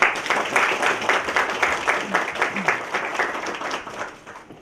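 Audience applause as the Ternopil regional prosecutor is introduced at an official presentation, a dense, steady wash of many hands clapping at moderate loudness that thins slightly toward the end.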